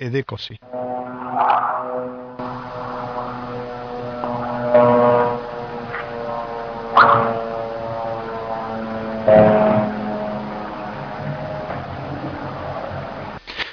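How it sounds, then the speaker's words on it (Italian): Military aircraft pass over houses in Gaza in a recording played back, a steady droning propeller-like hum with several louder swells, while someone talks over it in Italian. "sul rumore degli aerei che passano sulle case a Gaza"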